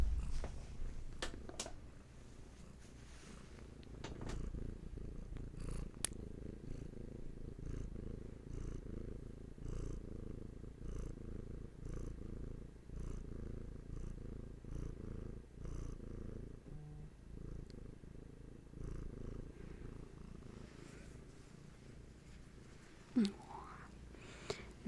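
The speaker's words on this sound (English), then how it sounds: "Nothing like some kitty purrs to bring you back." Hattie, a small cat, purrs close by in a soft, continuous low rumble that pulses steadily for a long stretch, with a few faint clicks and light rustles here and there.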